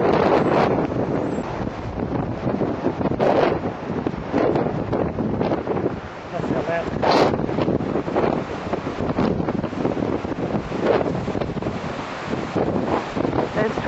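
Strong wind on a sunny Cape Cod day heading toward Provincetown, gusting hard across the microphone in loud buffeting roars, with distant surf or water beneath.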